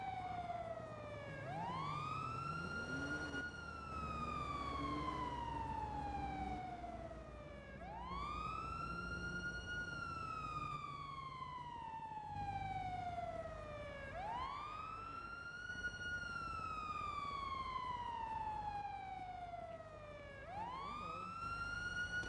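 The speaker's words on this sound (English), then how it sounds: "Park, can you cycle your sirens? They're real loud." Police car sirens wail in slow rising-and-falling cycles, about four long sweeps repeating steadily, fairly faint and steady with a low vehicle rumble underneath.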